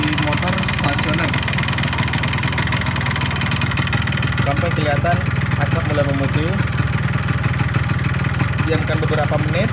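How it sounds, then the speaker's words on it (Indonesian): A Yamaha RX-King two-stroke motorcycle engine idles steadily throughout, a low continuous rumble with a person talking over it. "Biarkan posisi motor stasioner"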